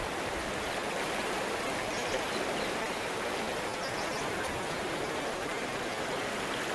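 A river flows beside a riverside stay near Srirangapatnam, giving a steady, broadband rush of water that stays constant and fairly close, with no voices over it.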